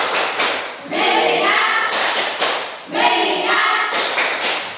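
A classroom of students performing a rhythmic group clapping routine, bursts of loud, close, in-unison claps arriving in patterned groups with brief pauses between them.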